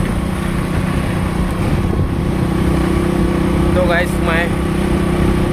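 A motorbike is ridden along a forest road, its engine a steady, close drone throughout while someone talks over it.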